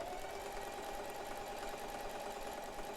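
A sewing machine stitches a king-size pillow case being trimmed down to standard size, giving a steady, continuous mechanical whir and buzz at close range with no breaks and no voices.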